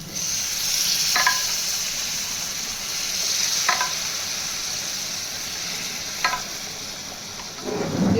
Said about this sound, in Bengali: মশলার সঙ্গে ভালো করে মিশিয়ে দেবো আর একটু জল দেবো